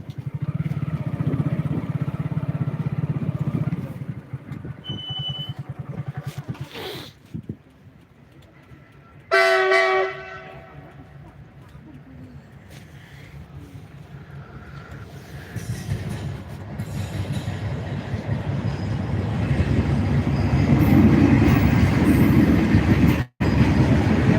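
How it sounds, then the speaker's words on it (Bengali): A freight train rolls past near a level crossing in Bangladesh, a steady loud rumble with clattering wheels that swells again toward the end, broken by a brief horn-like tone and a sharp squeal midway. "এটা তো মালগাড়ি যাচ্ছে"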